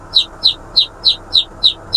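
Chicks picked up on an airport apron chirp in a rapid, evenly spaced series of seven sharp, loud, high peeps, close by over a low background rumble.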